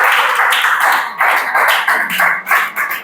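Hands clapping in a classroom, a run of quick, loud, close claps coming in uneven bursts.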